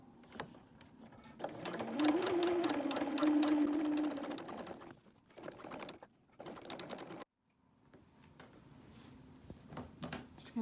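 A sewing machine stitches a change purse seam in a rapid, steady whir that runs for a couple of seconds, then stops, restarts in short bursts and goes quiet between them.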